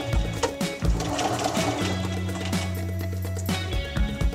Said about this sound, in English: we're going to stitch just easily where the foot wants to come down